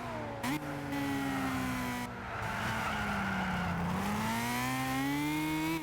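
Lotus Elise race car sliding sideways in Gran Turismo 6, with a sustained loud tire squeal gliding in pitch over a revving engine for several seconds, close and uninterrupted, no talking.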